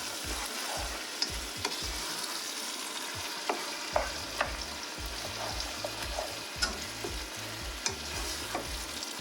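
Tomatoes cook in a pot for ackee and saltfish, a continuous close sizzle and crackle with scattered pops and occasional stirring scrapes, no voices.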